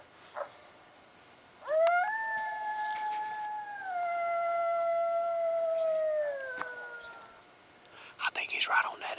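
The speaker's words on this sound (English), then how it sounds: "Start out with a lone female howl." A game call plays a lone female coyote howl during a coyote hunt: one long, wavering, sliding wail that rises, holds, then slowly falls, fairly loud over quiet open air, followed by a few faint rustles and clicks.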